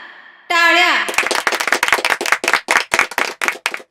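Applause and clapping break out after a swelling tone, with sharp, irregular hand claps at close range continuing steadily to the end, loud and fairly dense.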